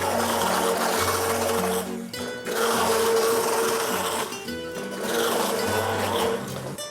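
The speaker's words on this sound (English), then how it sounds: "I'm using an immersion blender." Immersion blender puréeing food in a pan, a loud close whirring motor that runs in bursts with brief dips between them, alone without talk.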